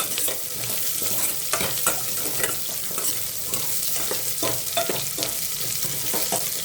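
Onions for sambar frying in a pan, a continuous sizzle with the scrape and clatter of a spoon stirring them, fairly quiet and without talk.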